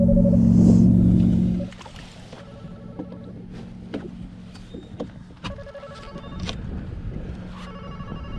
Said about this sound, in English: Phone ringing again?